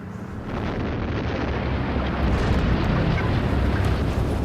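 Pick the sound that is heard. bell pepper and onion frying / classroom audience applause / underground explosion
underground explosion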